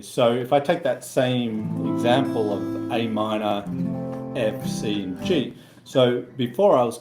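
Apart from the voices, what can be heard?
No everyday noise stands out behind the speech.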